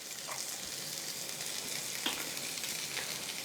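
Vegetables such as bell pepper and corn sizzle steadily as they are sautéed in a hot tempering, a continuous close frying hiss with a few faint stirring clicks and no talk.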